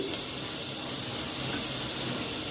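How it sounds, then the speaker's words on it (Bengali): Chopped onion, ginger and salt fry in a pan for a Bengali-style chicken stew, giving a steady, even sizzle and hiss throughout with no pauses. "এই মানে পেঁয়াজ, আদা কুচি, নুন এগুলো সব দিয়ে দেওয়া হয়েছে, এগুলো একটু ফ্রাই হচ্ছে"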